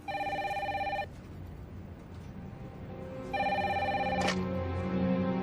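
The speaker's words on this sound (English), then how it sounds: "Until a phone call changes everything." Telephone bell ringing in two clear bursts separated by a pause, a loud electronic trill alone against a quiet room background.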